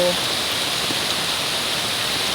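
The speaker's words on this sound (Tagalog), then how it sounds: "Ang bagsak ng tubig na to, dyan sa baba" Floodwater rushes and pours downhill in a continuous, even roar of broadband noise, loud and close, with no break in the flow.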